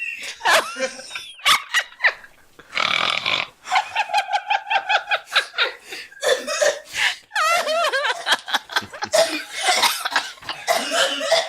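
Repeated harsh coughing fits mixed with wheezy, laughing breaths, loud and close, continuing in bursts throughout.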